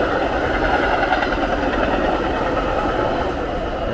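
A Union Pacific or METRA train passes on the Illinois Prairie Path, with a loud, steady low rumble and rail noise that holds close for the whole stretch.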